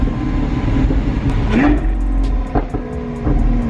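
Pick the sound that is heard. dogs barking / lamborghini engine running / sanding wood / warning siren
lamborghini engine running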